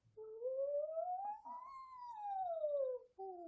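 A singer demonstrates a vocal siren warm-up exercise, a thin, soft voice sliding smoothly up and then back down in pitch, imitating a siren, followed by a brief second rising glide.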